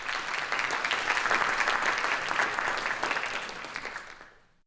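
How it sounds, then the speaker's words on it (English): An audience gives a quick round of applause for the hosts at a public information session in a park. It is moderately loud, broad and steady, then fades out at the end with no talk over it. "if we could just maybe a quick round of applause for them"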